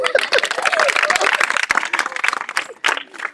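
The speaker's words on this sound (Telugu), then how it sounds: "ఆ క్లాప్స్ క్లాప్స్" A group claps in applause during a Sora tribal language lesson, a dense, steady patter of many hands with voices mixed in throughout.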